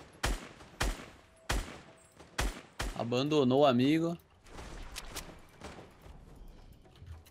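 Gunfire in the Fortnite battle royale game: five sharp, evenly spaced shots crack out, then someone talks briefly while faint distant shots continue.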